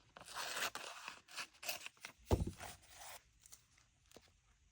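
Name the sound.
cutting paper with scissors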